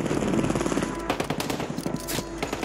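Rapid automatic gunfire in Call of Duty Warzone, dense bursts of shots rattling close together for under three seconds, loud and continuous with no voices over it.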